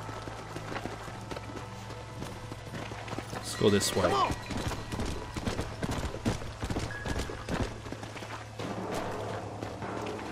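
Horse hooves clip-clop along in the Western video game Red Dead Redemption, a steady trotting patter at moderate distance beneath game ambience, with someone talking over it.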